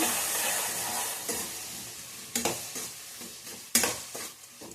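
Chopped onions for a puri upma (puffed rice uppittu) seasoning fry and get stirred in a pan, with a steady close sizzle and a few sharper scraping strokes of the spoon toward the end.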